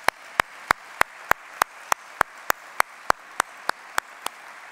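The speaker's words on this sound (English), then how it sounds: "please give yourself a round of applause for the incredible philanthropic efforts." Steady, evenly spaced sharp claps ring out in a meeting hall at an annual business meeting, about three per second, crisp and close over a faint room background.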